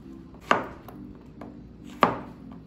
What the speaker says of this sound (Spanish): La calabaza la vamos a partir por la mitad